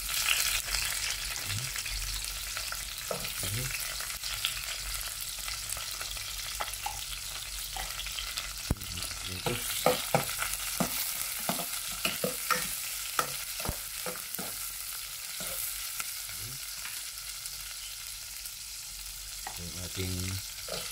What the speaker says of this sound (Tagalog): Igigisa na natin yung ating unahin natin yung sibuyas.